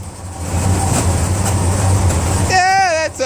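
A 1973 Cadillac Superior hearse engine idling with a worn exhaust, a loud steady low rumble throughout, then a person speaks over it near the end.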